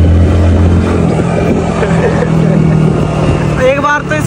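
Moving motorcycle on a road, a loud close engine drone with wind rumble that persists throughout the ride while people talk over it.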